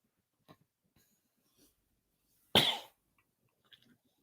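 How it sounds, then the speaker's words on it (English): One sharp, close cough breaks an otherwise quiet moment, surrounded by faint small rustles. "excuse me, I had to cough."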